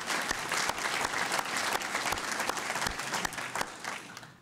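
A brief round of clapping from an audience at a village state-of-the-address meeting, individual claps distinct and fairly close, fading out at the end.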